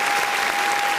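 A studio audience breaks into brief, loud, dense applause that holds steady throughout the short moment.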